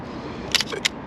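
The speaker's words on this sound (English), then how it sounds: "okay, close the lens." A Rittreck View 5x7 large-format camera gives two sharp mechanical clicks as its lens closes, the first a quick double snap and the second a single crisp tick, close up over faint outdoor hiss at a wharf park.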